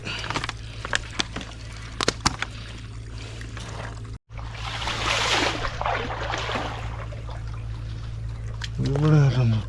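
Water pours from a bottle outdoors on a fishing outing, a rushing splash lasting a few seconds after some scattered clicks and knocks, with a brief voice near the end.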